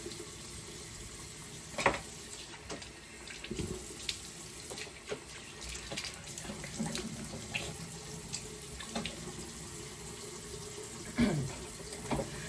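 Water runs steadily from a bathroom sink tap while someone rinses their face and mouth, a close continuous splashing with a few louder splashes and brief knocks, no talking.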